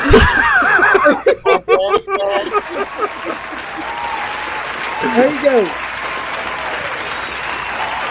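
Studio audience applause breaks out after a brief spoken line, a dense, steady clatter of many hands with a little laughter mixed in, running for several seconds and tapering only slightly at the end.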